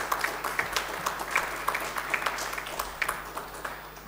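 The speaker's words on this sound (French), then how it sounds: "ils méritent un grand applaudissement." A conference audience applauding at a business event, with scattered individual claps forming a moderate, steady patter of applause heard from within the room.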